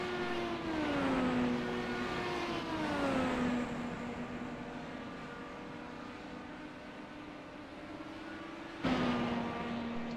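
An IndyCar DW12 race car in a racing game laps an oval circuit in Iowa, its engine note droning steadily with pitch dips and rises through the corners and a sharp jump near the end, alone with no talk.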